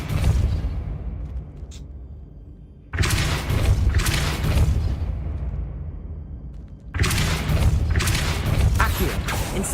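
The Depulso spell being cast in Hogwarts Legacy: two loud, forceful blasts several seconds apart, each followed by a rumbling crash that slowly decays, with a player's voice speaking at times.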